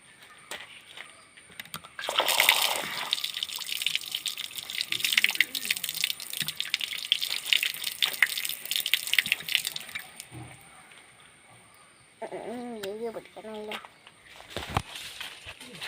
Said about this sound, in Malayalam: ഇപ്പം ഞാൻ കഴുകാൻ വന്നേക്കണം മാങ്ങ.